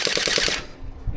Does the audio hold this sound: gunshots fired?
yes